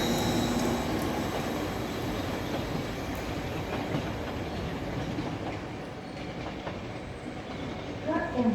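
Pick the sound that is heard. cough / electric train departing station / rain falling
electric train departing station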